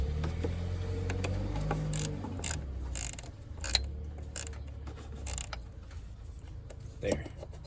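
Close ratcheting clicks and small metal mechanism sounds come in short bursts as screws on the throttle position sensor of a 1999–2006 GMC Sierra are tightened, with a low hum underneath.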